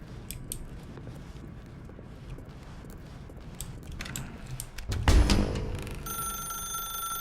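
Late in the moment, a telephone in The Stanley Parable starts ringing with a bright, steady electronic trill after a low, shuffling background.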